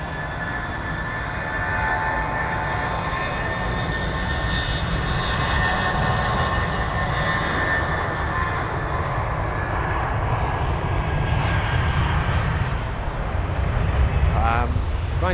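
An Air Canada Boeing 777 jet airliner at London Heathrow gives a loud, steady engine roar with broadband rumble and whine, sustained throughout, under light talk.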